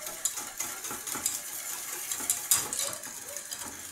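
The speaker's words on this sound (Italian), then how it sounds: "andremo ad accendere e andremo a mescolare con l'aiuto di una frusta" A whisk stirs panna cotta cream in a pot on the stove, making quick metallic clinks and scrapes against the pan in an irregular rhythm, close and moderately loud.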